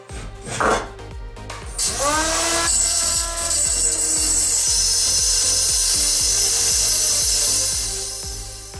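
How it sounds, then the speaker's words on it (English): A power saw grinds and whines through aluminum plate for a combat robot part, loud, steady and harsh, its pitch shifting as the blade bogs and strains through the cut. "You can really see here how hard of a time I was having cutting through this aluminum plate."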